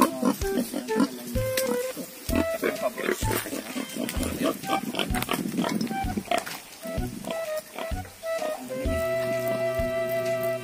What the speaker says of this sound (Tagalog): Yung baboy.